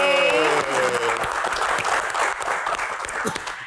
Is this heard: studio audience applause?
yes